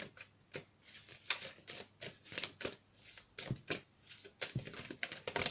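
Playing cards shuffled in a quiet room, a run of faint, rapid riffling bursts and flicks repeating in an uneven rhythm, with no talking.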